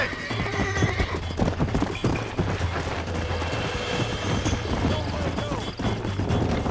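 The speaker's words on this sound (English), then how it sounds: "I need you to stop now, horsey." A horse in the video game Red Dead Redemption neighs and gallops with rapid clip-clop hoofbeats under a busy, dense game soundscape, while a player talks over it.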